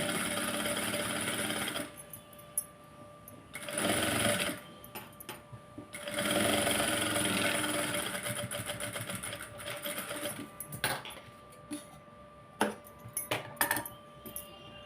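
Sewing machine stitching a blouse armhole, several runs of loud rapid stitching separated by pauses, ending with short bursts and mechanical clicks.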